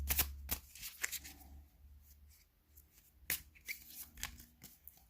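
Tarot cards shuffled and handled by hand, a series of quick papery riffles and slaps close by, with a quieter pause in the middle before another burst of card flicks.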